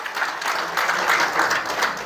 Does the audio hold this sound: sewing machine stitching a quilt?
no